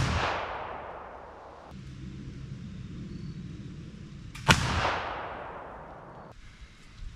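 A flintlock rifle loaded with 70 grains of powder fires twice outdoors, each a sharp loud crack trailing into a long fading boom, the second shot coming a few seconds after the first.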